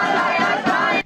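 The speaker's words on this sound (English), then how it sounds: "crowds gathered outside IDF headquarters. They're chanting enough" A crowd chanting outside IDF headquarters in Tel Aviv: many voices shouting together in a loud rhythmic chant that cuts off abruptly near the end.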